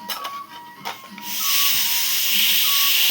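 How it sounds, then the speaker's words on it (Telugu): Steam hissing out of a pressure cooker: after a few faint taps and rubs, a loud, steady, close hiss starts and continues without pause to the end, no talk. "కుక్కర్ అంట ఆవిరి మొత్తం పోయేదాకా కూడా తీస్తే గమ్ముని పేలిపోతుంది"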